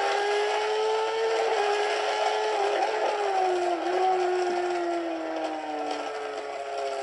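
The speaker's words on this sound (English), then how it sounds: "Sounds like the Kawasaki." A Kawasaki motorcycle races along the start and finish straight at Donington circuit, its high engine whine holding steady with slight pitch shifts as it passes, loud and continuous throughout.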